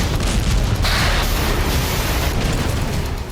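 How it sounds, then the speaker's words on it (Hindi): A FAB-500 bomb explosion from a Russian strike near the Dnieper river, heard as a loud, sustained roar of broadband rumble that barely fades over a few seconds. "ये फैब 500 का धमाका है।"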